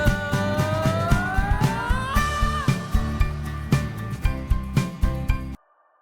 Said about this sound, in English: Say the singer sang it for too long and you want to shorten the note.